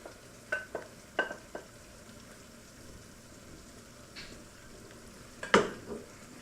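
Gravy stirred into venison cooked in Marsala in a pan, with a soft, steady sizzle and a few sharp clinks and scrapes of a utensil against the pan, loudest near the end.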